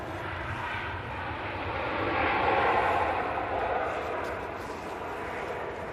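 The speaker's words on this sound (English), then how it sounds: "Touchy-feely landing there from the Sun Express." A SunExpress airliner lands at Manchester Airport, its engine roar a broad steady rumble that swells to a peak midway and eases off, heard from a distance outdoors.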